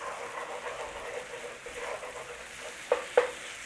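Onions and aromatics frying in coconut milk for a chickpea and cauliflower curry, a faint, even sizzle and bubbling with two sharp utensil clicks near the end.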